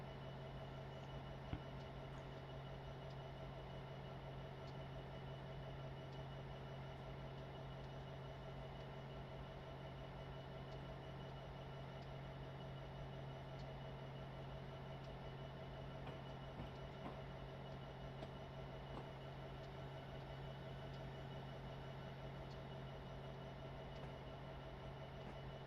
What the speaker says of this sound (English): hopefully that train is moving